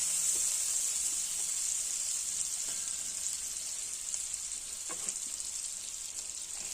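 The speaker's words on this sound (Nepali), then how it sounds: "एकछिन फ्राई गर्नुपर्छ आलुलाई पनि।" Potato pieces fry in a pan for a sabudana aloo dish, giving a steady, loud sizzle that holds throughout, with a few faint scrapes of stirring.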